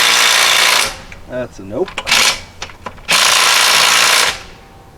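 An old DeWalt power tool rattles loudly in two long, close bursts while trying to loosen rusted brake parts on an 8.25 or 8.75 Mopar rear axle, with a brief spoken remark and clanks between them.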